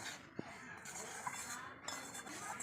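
Dry semolina being lightly stirred in a pan, soft scraping with a few sharp metal clinks of the spoon against the pan, faint and close under a low background hum.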